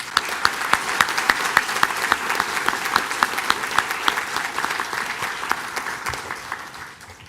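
Audience applause at a construction and welding certificate ceremony, a fairly small crowd clapping with distinct individual claps standing out, holding steady before fading at the end.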